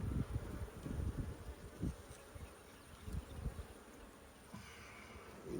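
Nurse bees in a queen-rearing hive give off a close, steady buzzing hum with fluctuating intensity and no voices.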